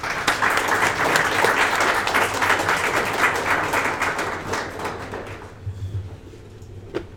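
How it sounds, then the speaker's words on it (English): A crowd claps loudly and steadily for several seconds before the applause thins out into a few scattered claps. "Let's give Kunal a round of applause"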